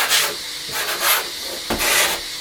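Sandpaper rubbed by hand over sawn wooden parts for a faux fireplace, giving repeated rhythmic scratchy strokes, close and fairly loud, with no talking.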